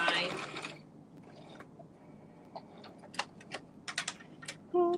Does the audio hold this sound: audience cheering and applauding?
no